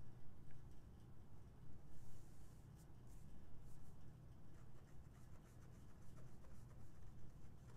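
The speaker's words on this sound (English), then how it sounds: "Let's draw another picture." Pen or marker scratching and scraping on a surface while a picture is drawn during a physics lesson, continuous soft strokes with brief taps, close and quiet, no talk.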